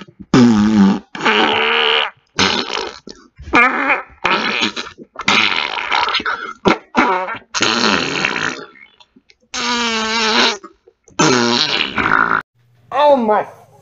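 Repeated farting noises play from a video, a long series of loud raspy bursts and sputters with short gaps, some drawn out and wobbling in pitch.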